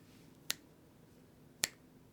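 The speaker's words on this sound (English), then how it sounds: "in between each of those snaps" Two crisp finger snaps, about a second apart, ring out sharply and alone in a quiet room with no talking.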